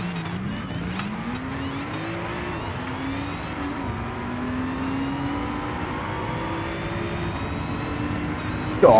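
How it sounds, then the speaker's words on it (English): Supercharged muscle car engines in a racing video game, a sustained loud engine note rising steadily in pitch as the car accelerates, with a supercharger whine layered over it and a brief burst at the end. "Oh, listen to the supercharger in one of those."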